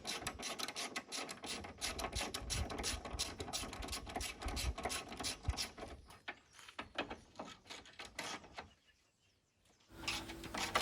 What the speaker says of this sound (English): Same up the top here, just 2 10mm bolts to undo, nice and easy.